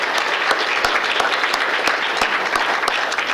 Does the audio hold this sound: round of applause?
yes